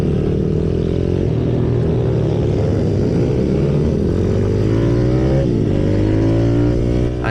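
Pit bike pulling away onto a race track from an onboard position, its engine loud and close and rising in pitch as it accelerates, with no talking.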